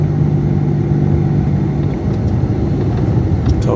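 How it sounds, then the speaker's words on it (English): A tow truck passing on a road, a loud, continuous low rumble of engine and tires that stays steady for the whole stretch, close by, with no voices. "Tow truck."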